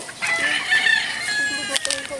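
A fighting cock crows loudly and close by in one long, strained call with a brief second burst near the end.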